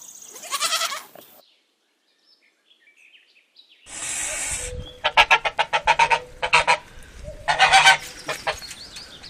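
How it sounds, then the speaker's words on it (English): A goose honks in several rapid, repeated calls, loud and close, with a separate short animal call and a pause of silence earlier. "goose"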